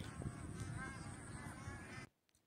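Bar-headed geese at Magadi lake bird sanctuary in Gadag honk in a dense overlapping chorus, loud and continuous for about two seconds before cutting off abruptly to near silence.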